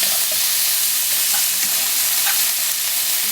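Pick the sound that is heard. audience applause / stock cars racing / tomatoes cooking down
tomatoes cooking down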